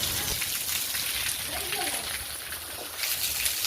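Heavy rain pours down steadily on a farm during the sowing season, a dense continuous hiss of drops with a faint voice murmuring underneath.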